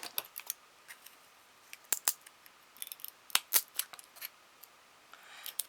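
Scissors cutting material for a table decoration, a series of quiet, sharp snips coming in irregular bursts, some close together, against a near-silent background.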